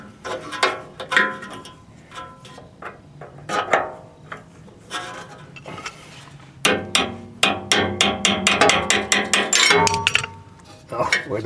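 Metal tapping on a Toro 524 snowblower part makes a run of sharp clinking strikes, sparse and irregular at first, then a fast close rattling burst, with clanks of tools in between.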